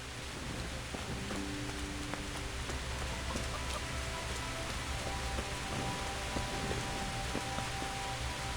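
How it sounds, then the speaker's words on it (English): Pouring rain in the medieval video game Kingdom Come: Deliverance, a steady, even wash of hiss with faint tonal ambience underneath, continuous throughout and without speech. "Nice that my torch stays lit in this pouring down rain"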